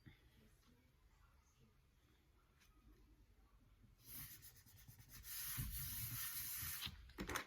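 An eraser rubs back and forth on paper, soft at first, then firmer and louder brushing strokes near the end, close and quiet.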